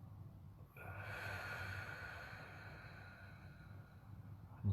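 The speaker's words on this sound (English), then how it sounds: "Take a deep breath in" A single long, deep exhale through the nose, close and fairly loud, drawn out over several seconds in a quiet room with no talking.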